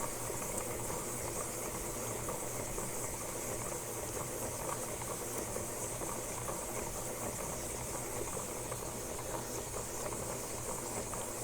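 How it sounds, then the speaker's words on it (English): A steady whirring hiss of a 400 grit polishing pad working a jasper/agate stone sphere runs evenly and constantly throughout, fairly faint and unbroken, with no talking. "I'm using a 400 grit polishing pad or polishing pads for my cups"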